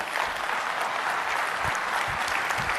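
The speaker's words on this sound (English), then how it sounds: "give a round of applause to Peter" An audience applauds Peter Zeihan as he walks on stage for a talk on global supply chains, the clapping steady and fairly distant, a continuous wash without a break.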